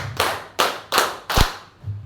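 A group of teachers at a school discussion session claps in a counted pattern, four loud sharp claps spaced evenly about a third of a second apart, close and clear with no talking.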